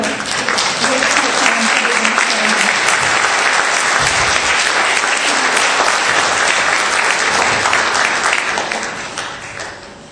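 Loud, sustained audience applause after a film screening at a memorial and celebration event, a thick continuous roar of clapping close by that holds steady before tapering off at the end.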